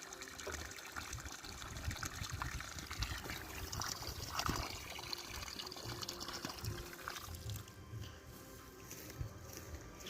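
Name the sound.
watering durian and avocado plants until water pools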